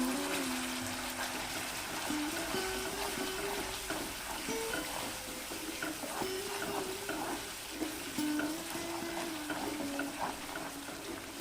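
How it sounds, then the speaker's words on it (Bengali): Spice paste with Kashmiri chili powder sautés in a pan for fennel-spiced koi fish, giving a steady, soft sizzling crackle with a faint tonal hum running underneath. "মশলাটা আমরা খুব ভালোভাবে কষে নিয়েছি"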